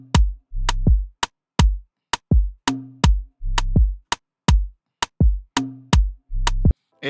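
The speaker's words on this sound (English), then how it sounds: "the first bass that was played sounds something like this with the drums" A distorted bass line in an Afrobeat groove, heard with drums in a punchy repeating pattern of short, heavy notes broken by brief gaps between the hits, loud and close with no talking.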